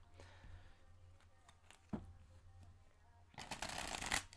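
Tarot cards being shuffled by hand in a quiet room, a soft riffling patter that builds to a louder, denser burst of shuffling toward the end.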